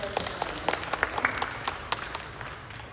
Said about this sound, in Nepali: हामी ठुलो ताली बजाएर